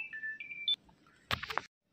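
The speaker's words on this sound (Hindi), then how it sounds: "लेकिन फ़ोन आ रहा है, मैं फ़ोन उठाता हूँ।" A phone rings with a short melodic ringtone of a few electronic tones, then a brief clatter as it is handled, before the sound cuts out.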